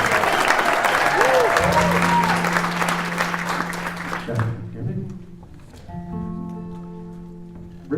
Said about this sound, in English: Welcome, Dave Kurska. And a big round of applause